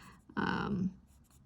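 A single brief stroke of a drawing tool scratches across paper while a men's shirt is being contoured in dark brown, close and crisp, with faint talk around it.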